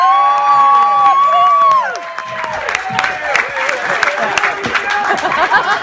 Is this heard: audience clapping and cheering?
yes